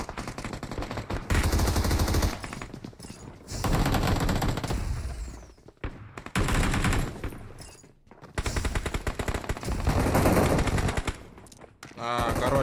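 Bursts of automatic gunfire from PUBG Mobile, rapid-fire volleys in several loud stretches separated by short gaps, close and heavy in the mix.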